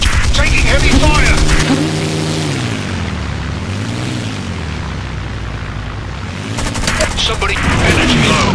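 Heavy gunfire and booming explosions from a mech combat video game, loud and dense with rapid bursts at the start and again near the end, easing to a steadier rumble in between, with a synthetic voice announcing status.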